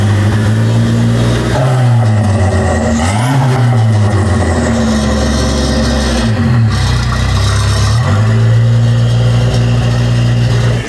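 Merkur XR4Ti car engine droning steadily while driving, with rising and falling revs as it accelerates and shifts, loud and close throughout with road and wind rasp underneath.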